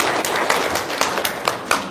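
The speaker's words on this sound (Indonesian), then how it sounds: "tepuk tangan dong untuk Ibu." Audience applause at an Indonesian religious talk event, a dense patter of many hands clapping steadily with a few sharper claps, continuous for the whole moment, fairly loud and without speech over it.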